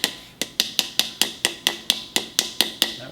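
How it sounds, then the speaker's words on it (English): Hammer taps drive a seal onto a Dana 30 front axle spindle from a 1972 International Scout, about fourteen sharp metallic strikes in a steady, even rhythm, close and clear with no talking. "Just need a hammer."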